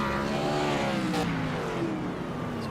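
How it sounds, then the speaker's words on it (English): A race car in an IROC series event at Atlanta does a burnout, and its engine roars with a steady, sustained drone that shifts in pitch, loud and continuous throughout. "Plenty left over for the burnouts. Beautiful burnout."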